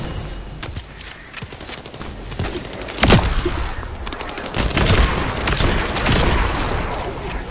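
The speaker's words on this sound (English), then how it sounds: "I love the sound of gun. Gun go brrr." Dense bursts of rapid video game gunfire crackle continuously in The First Descendant, with sharper close shots and booms mixed into a busy, chaotic firefight.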